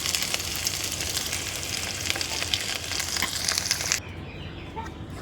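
Amaranth greens and onion fry in a pan with a steady, close sizzle, broken by occasional stirring, and the hiss drops off abruptly near the end.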